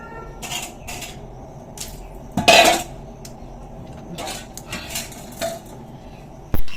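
A pangas fish is hacked on a boti blade with scattered metallic scrapes and clinks, one sharp louder strike near the middle and another at the end, close by and without talk.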